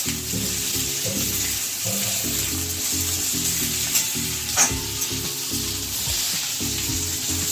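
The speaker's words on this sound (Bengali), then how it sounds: "আলুগুলো একটু ভেজে নিয়ে তারপর ওটা দেবো।" Potatoes fry in hot oil for a snake gourd and poppy-seed dish, a continuous close sizzle with repeated stirring and scraping in the pan and no talking.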